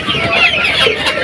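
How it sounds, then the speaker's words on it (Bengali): Chickens cluck steadily while feeding at midday, close by and fairly loud, with overlapping fowl calls filling the whole stretch and no voices. "আমার মুরগি।"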